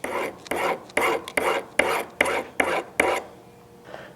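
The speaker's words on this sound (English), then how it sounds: "It's gotta work after just a little bit of filing." A hand file rasps against a small metal washer in eight even strokes about half a second apart, close and crisp, followed by a faint final scrape.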